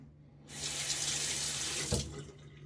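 A bathroom tap runs steadily into a sink to rinse after a wet shave, a continuous close hiss of water that starts abruptly and carries on alone with no talking.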